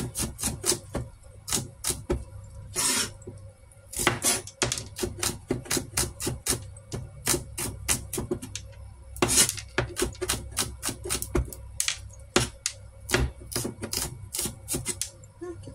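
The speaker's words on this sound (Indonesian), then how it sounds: "Kita potong bumbunya ya." Rapid knife chopping of shallots and garlic on a cutting board for a spice paste, steady close taps in quick bursts with short pauses, no talking.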